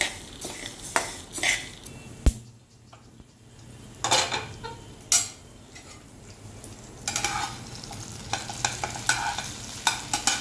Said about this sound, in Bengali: আর এদিকে চলছে মুগ ডাল ভাজা